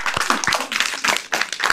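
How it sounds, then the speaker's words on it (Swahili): Children clap together in a quick, uneven rhythm of sharp handclaps, close and lively, with bursts of several claps separated by brief pauses. "at least tumpigie makofi."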